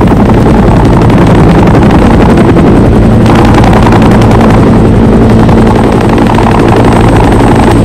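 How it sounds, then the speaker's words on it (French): Loud, continuous thudding of military helicopter rotors picking up soldiers, with heavy engine roar, close by and steady throughout. "Ces hélicoptères sont en train de récupérer 2 bataillons de soldats sud-vietnamiens"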